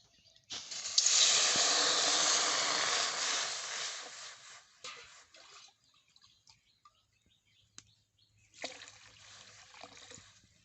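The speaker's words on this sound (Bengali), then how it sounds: "কড়াইতে এবারে আমি জল দিয়ে দেবো" Water poured into a hot wok on a stove gives a loud, hissing rush of steam that tapers off after a few seconds, followed by a quieter later burst of sizzling.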